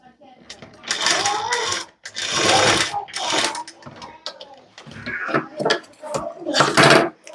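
A sewing machine stitches tucks into a Jimmy Choo blouse fabric in several short bursts of rapid mechanical chatter separated by pauses, close and fairly loud.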